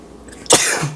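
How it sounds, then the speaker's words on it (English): One abrupt, explosive sneeze-like burst from a nearby person, bursting out suddenly after a quiet moment. "I feel like I'm gonna sneeze."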